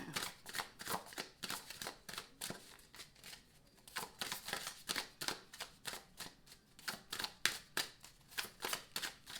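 A deck of tarot cards is shuffled up close in quick, repeated riffling bursts that are soft but crisp. There is no talking during the shuffling.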